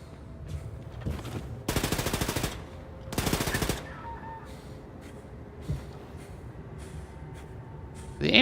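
Two long bursts of rapid automatic gunfire from a gun in Wolfenstein 2: The New Colossus, loud and close, separated by a short pause, with quieter game ambience around them.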